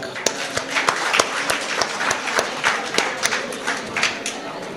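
Scattered hand clapping from a small audience at a golden jubilee celebration function, individual claps sounding irregularly rather than as a dense roar, moderately close.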